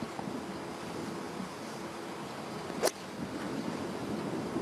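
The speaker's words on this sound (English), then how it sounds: "guessing there's an awful lot of wind staring straight into you in this hole." Wind gusting across a par-3 hole on a golf course during a women's LPGA championship round in Taiwan, heard as a constant rushing roar against the microphone with one brief bump partway through.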